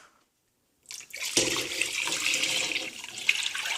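Milk poured in a steady splashing stream into a soup pot for homemade potato soup, starting after a second of silence and continuing close and fairly loud to the end.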